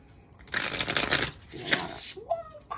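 A deck of cards shuffled repeatedly at a tabletop game, loud close riffling bursts in two main runs, with a brief voice near the end.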